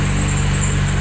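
A Saturn SW2 car engine, rebuilt at 269,000 miles and prone to stalling, runs in a steady close rumbling idle with a faint whine above it.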